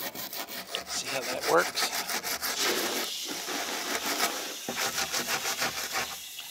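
Pecky cypress ceiling board being smoothed by hand, a continuous close rasping and rubbing of wood in steady back-and-forth strokes with brief pauses; someone speaks briefly over it.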